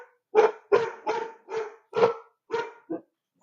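A dog barks about seven times in a steady series of loud, close, sharp barks with short gaps between them, heard alone without any voices indoors.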